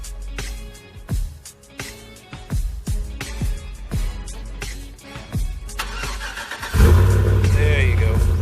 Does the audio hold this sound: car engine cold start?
yes